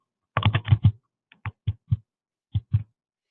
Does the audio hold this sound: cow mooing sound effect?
no